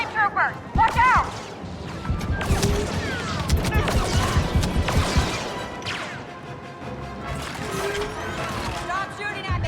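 Blaster fire and explosions from a Star Wars Battlefront II battle: rapid bursts of shots, cracks and booms pile up densely throughout, loud and chaotic, with battle chatter and shouting mixed in.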